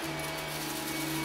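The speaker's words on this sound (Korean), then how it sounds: "진공 청소기" Steady, dense vacuum cleaner roar with a constant whine, filling a short burst without change.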